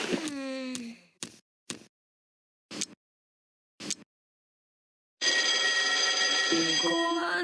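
A morning alarm at home rings as a few short electronic chirps, then breaks into a loud, sustained, shrill ringing, close by.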